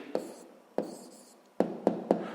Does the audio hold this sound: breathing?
no